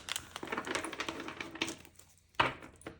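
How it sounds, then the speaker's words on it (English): Stiff tarot cards being shuffled give crisp, rapid flicking clatter in irregular bursts, then a brief lull and a sharp final snap of cards, close and fairly quiet. "These cards are hard to shuffle."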